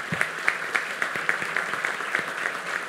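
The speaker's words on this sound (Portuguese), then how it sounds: "Peço uma salva de palmas para ele." An audience at a digital transformation conference panel applauds a senator as he is invited to the stage, a moderate, steady patter of claps with regular sharper hits, fairly close and even.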